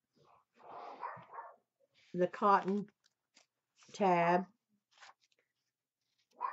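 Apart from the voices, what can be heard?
dog barking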